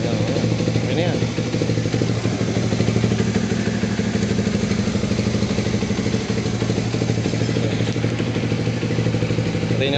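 A Flash 150X FI motorcycle with fuel injection idles steadily and loudly close by, its low engine drone and mechanical clatter holding a constant rhythm throughout with no voices.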